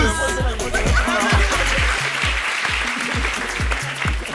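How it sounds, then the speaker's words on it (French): Applause from a group during a lively French entertainment show, clapping mixed with a strong rhythmic thumping beat of music underneath, fairly loud and continuous. "On applaudit Mousse."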